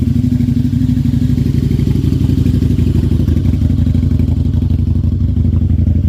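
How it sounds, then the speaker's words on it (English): Harley-Davidson V-Rod Muscle motorcycle with aftermarket exhaust pipes idling close by, a loud, steady deep rumble with a lumpy pulsing rhythm throughout and no talking. "With those pipes, with that exhaust on there, it sounds very, very good."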